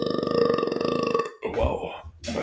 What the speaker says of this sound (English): That's good burps there.